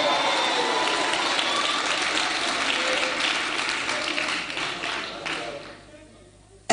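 Audience applause at a church gathering: sustained, dense clapping from a crowd that gradually thins and fades away near the end.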